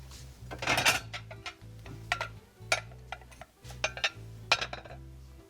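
Plates and dishes handled in a home kitchen while eggs Benedict with yam toast is plated up, a series of close clinks and clatters at an uneven pace, with no talking.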